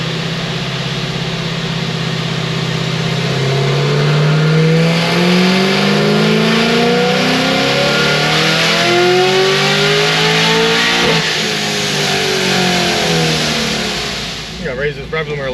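A procharged Chevy SS engine revs hard on a dyno, climbing steadily through the gears in one long loud sweep before dropping off near the end, close and roaring throughout.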